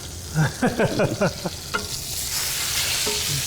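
A sous vide hanger steak is seared in a hot pan: a few quick scraping, squeaky movements of the meat come first, then a steady, fairly loud sizzle takes over.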